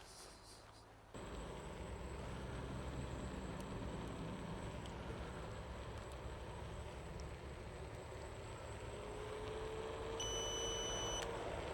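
Several short electronic beeps from a car's cruise control sound over a steady road rumble from inside the moving car, with a faint rising tone near the end.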